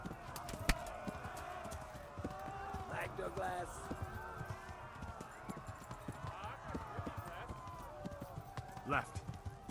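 A horse gallops in Kingdom Come: Deliverance, its rhythmic hoofbeats running steadily at moderate volume, with someone talking over them throughout.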